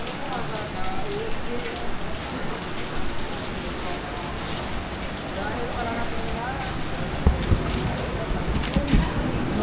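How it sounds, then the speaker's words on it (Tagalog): Heavy rain pours steadily on surfaces in Bohol, a dense constant hiss with a few louder drips and knocks near the end, and no voices. "Ang lakas pa din ng ulan."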